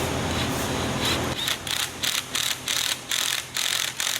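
An impact driver fitted with a 1/2-inch socket tightens a bolt on a walk-in ornament, first running in a loud continuous whir, then hammering in about eight rapid rhythmic bursts, heard up close.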